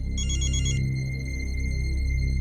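A telephone rings with a short trilling electronic burst near the start, followed by a steady hum with no voices.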